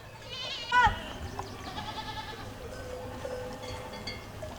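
Goats bleat on a hillside trail, with one loud, close bleat early on and fainter bleats and bells over quiet outdoor background.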